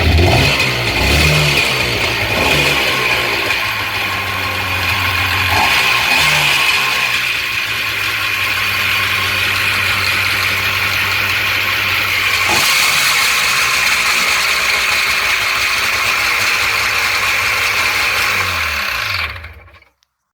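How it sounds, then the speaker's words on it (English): A 1998 Sea-Doo GTX jet ski with a 951 engine, slightly noisy, starts and runs loud and close, a rough buzzing two-stroke drone with brief throttle rises, holding steady for about twenty seconds before cutting off abruptly. "engine starts and runs. It sounds a little noisy to me, but it's probably okay."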